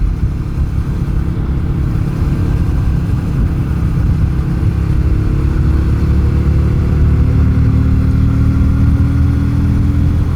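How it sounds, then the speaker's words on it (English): A 250cc bobber motorcycle fitted with a 17-tooth front sprocket accelerates under load, its loud, steady engine drone climbing gradually in pitch over about ten seconds. "You can hear the engine is working nowhere near as hard."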